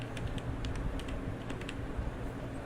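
Rapid, steady clicking of keys on a computer keyboard while someone types in MS Word, close and continuous with no voices.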